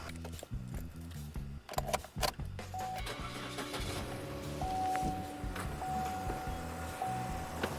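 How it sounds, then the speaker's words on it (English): A Chevrolet Cruze engine with codes P0171 and P0496 cranks and catches, then settles into a steady idle with a faint high whine running alongside it. "Now I'm gonna go in the vehicle and start the engine"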